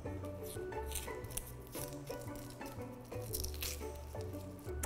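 Onion skin is peeled from a halved onion on a cutting board, producing close, crinkly crackling and rustling that comes in irregular bursts. Steady low background music runs beneath it.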